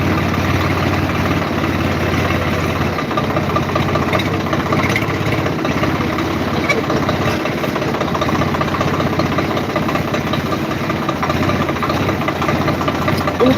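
A tractor engine idles steadily on a farm road, a loud, continuous low rumble with a knocking pulse throughout, close by and unbroken.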